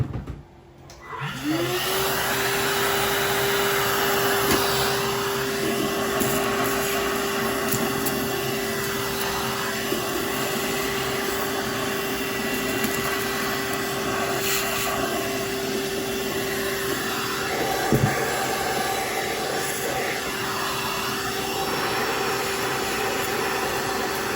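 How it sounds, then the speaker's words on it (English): A vacuum cleaner starts up with a rising whine, then runs loud and steady for a long stretch, its pitch holding constant as it drones close by. "They hate the vacuum, and I can't blame them."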